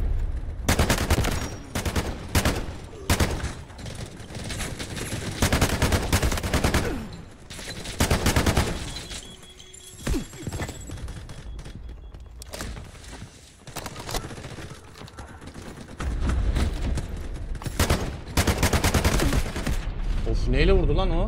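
Gunfire in the video game Delta Force, bursts of loud automatic shots and rapid single cracks repeating throughout, some close, with footsteps between volleys and occasional talk.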